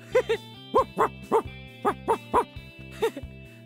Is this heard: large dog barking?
yes